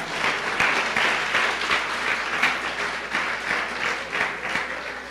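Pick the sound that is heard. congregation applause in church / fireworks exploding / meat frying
congregation applause in church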